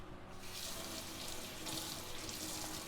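Tap water running into a sink while peaches are rinsed, a steady close rushing splash that starts abruptly and continues evenly, with no talking.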